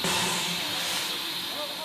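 Steam locomotive of a French tourist train releasing a loud, continuous hiss of steam, close and steady for the whole short stretch, with a voice talking faintly underneath.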